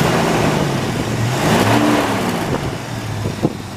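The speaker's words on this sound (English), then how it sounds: "We're going to go ahead and fire this one up for you." A 1972 Oldsmobile Cutlass Supreme engine rumbles loudly nearby and revs up, the pitch rising and falling before settling back to a steady idle.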